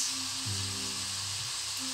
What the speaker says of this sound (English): frying off beef mince